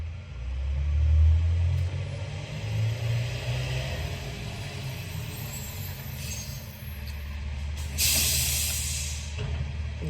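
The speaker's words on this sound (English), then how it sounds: "The garbage truck is here." Garbage truck outside, a low rumbling engine idling and moving with a sharp burst of air-brake hiss near the end.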